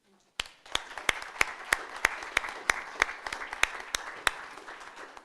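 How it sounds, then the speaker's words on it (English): A conference audience applauds panelists on a road infrastructure safety programme, with a sudden burst of dense clapping that continues steadily, with single sharp claps punctuating it regularly throughout. "I would like us to give them a warm round of applause"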